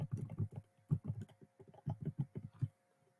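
Someone types a password on a computer keyboard in rapid, uneven bursts of soft key taps with brief pauses, close and fairly quiet, with no talking.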